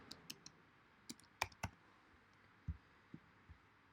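Sparse, sharp keystrokes typing text on a computer keyboard while setting up a text composition, a few separate clicks spread irregularly over several seconds, close and fairly quiet with no voices.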